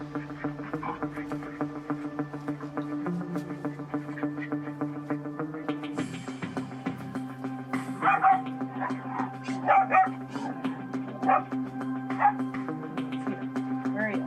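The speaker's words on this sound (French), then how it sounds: "Elle recommence à aboyer." Lexie the dog barks in repeated sharp bursts over a steady background hum, with yips and whimpers between barks, close by and fairly loud.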